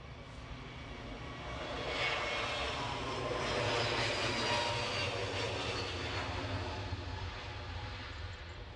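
JetBlue jet airliner at Edinburgh Airport, a broad steady engine roar that swells and lingers, loud and fairly near with no talk over it.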